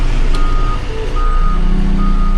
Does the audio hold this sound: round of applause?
no